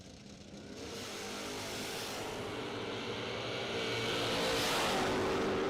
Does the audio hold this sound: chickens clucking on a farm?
no